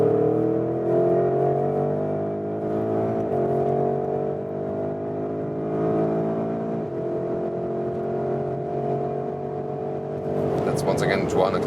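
A Porsche Cayenne GTS with a V8 engine runs in Sport Plus mode at high motorway speed, giving a sustained, layered engine drone with steady harmonic tones that shift slightly as it pulls, plus a brief rush of wind noise near the end.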